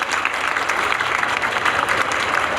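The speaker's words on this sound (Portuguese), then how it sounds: "Uma salva de palmas a essas mulheres, gente." A crowd at a panel event gives a round of applause for the women on stage, a loud, dense and continuous clatter of many hands with no voices over it.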